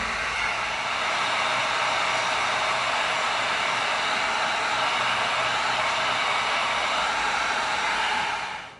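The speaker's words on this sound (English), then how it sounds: "Now we're going to come in with our heat gun, and we're going to cause those creases to open up a little bit." Heat gun blowing steadily on creased EVA foam, a loud, close, constant rushing whoosh that runs unbroken and cuts off at the end.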